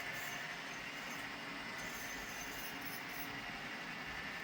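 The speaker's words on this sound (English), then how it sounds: "Now the speed that I'm running this train is about as fast as I typically run my trains on the layout." A model railroad train running on a home layout at typical operating speed, a steady faint whirring rumble of small wheels on track, continuous and quiet.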